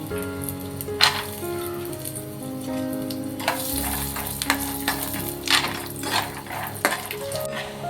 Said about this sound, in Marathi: त्याच्यामध्येच मी शेंगदाणे घेते परतून